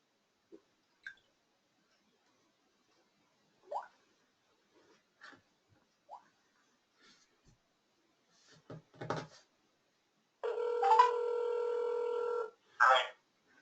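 A telephone rings during an online tutoring call, with a long steady electronic ring tone near the end followed by a short second burst, after scattered quiet clicks and faint sounds.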